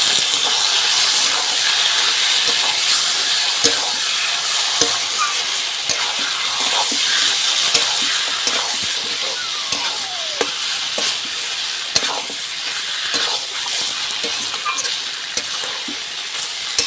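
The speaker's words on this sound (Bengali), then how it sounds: "এবার আমি চিকেনগুলো দিয়ে দেবো" Chicken pieces tipped into hot, well-fried spice masala with separated oil for a Bengali chicken kosha sizzle in a loud, continuous hiss, with scattered ticks and pops throughout.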